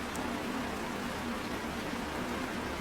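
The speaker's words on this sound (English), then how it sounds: "The rain was coming down in sheets," Heavy rain falling in sheets at night, a constant, even hiss of dense drops with no variation, fairly soft and continuous throughout.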